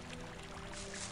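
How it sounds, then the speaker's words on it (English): Brief, continuous watery splashing and swishing as a character wades through a river in the video game Gothic, steady and close with no talking. "you just waded through the river"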